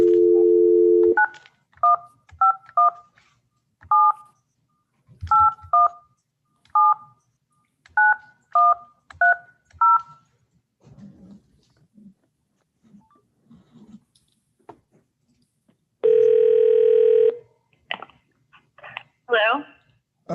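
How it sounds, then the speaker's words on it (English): A telephone number is dialed on a keypad for a remote court hearing: a dial tone, then a string of about a dozen distinct touch-tone beeps in uneven groups, followed by a ringback tone and a voice answering. "I'm going to try that phone number again."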